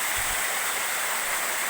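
A small waterfall pours into a fishpond, a steady close rushing and splashing of water with no break throughout.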